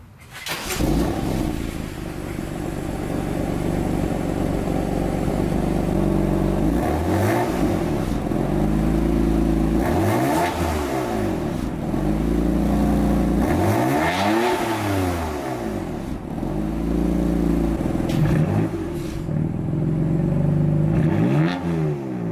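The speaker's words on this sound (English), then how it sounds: "can I turn on your car and do like a rev to compare it before we do it?" A BMW F80 M3's engine idles, then is revved repeatedly in several sharp, rising and falling blips with a steady idle between them, loud and close, on the stock downpipes.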